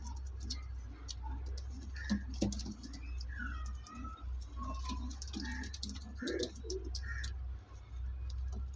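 Saintent pigeons coo softly in low, throaty rolls under a steady hum, with faint ticking and occasional background voices.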